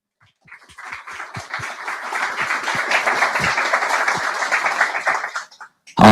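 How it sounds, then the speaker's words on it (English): Audience applause at the Flutter Tech Summit tech conference: scattered claps build into full, steady clapping from a crowd over several seconds, then thin out and stop. "I would just say that a warm applause to you for being here"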